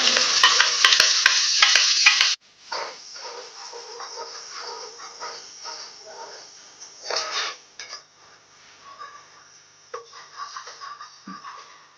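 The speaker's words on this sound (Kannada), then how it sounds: "ಟೊಮೆಟೊ ಮತ್ತು ಈರುಳ್ಳಿ ರುಬ್ಬಿ ಇಟ್ಕೊಂಡಿದ್ವಲ್ಲ ಆ ಪೇಸ್ಟನ್ನು ಹಾಕಿ ಫ್ರೈ ಮಾಡ್ಕೊಳ್ತಾ" Tomato and onion paste frying in a pan for egg masala, a loud bright sizzle for the first two seconds that drops abruptly to softer, uneven bubbling and scraping of a utensil stirring.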